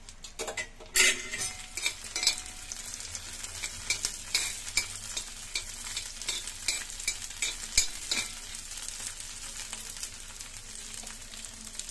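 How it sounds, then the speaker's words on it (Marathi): Green chilies frying in oil on a medium gas flame, a steady sizzle broken by repeated scraping and clinking of a spatula stirring against the pan. "2 मिनिटं मिरच्या परतून घ्यायच्या"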